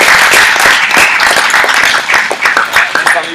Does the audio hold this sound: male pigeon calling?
no